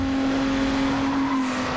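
A race car in Need for Speed Underground holds a steady, loud engine drone at a constant pitch throughout, with no voices.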